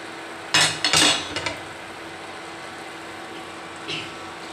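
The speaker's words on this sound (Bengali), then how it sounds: "ঢাকনা দিয়ে ঢেকে দিচ্ছি" A lid is set over a pan of egg sprinkled with a little salt, being poached in ghee: a close cluster of metallic clanks and clatters, then quiet with one faint knock later.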